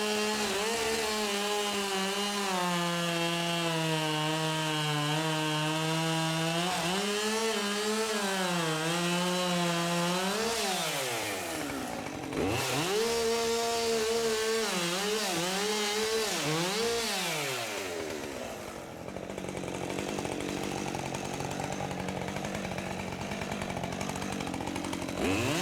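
A Husqvarna chainsaw cuts into a storm-damaged tree, its engine pitch rising and falling through repeated cuts, bogging under load, with brief drops between bursts and a loud near idle toward the end.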